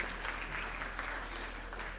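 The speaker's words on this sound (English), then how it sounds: "give him a big round of applause" A graduation ceremony audience applauds: dense, steady clapping from a large crowd, heard from some distance and fairly faint, continuing without a break.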